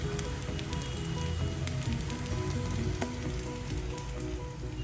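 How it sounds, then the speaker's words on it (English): Corn kebabs deep frying in hot oil give a steady, dense sizzle with a continuous crackling hiss and scattered pops, close and even throughout with no voices. "Deep frying any shape is very easy. They just go in deep into the oil."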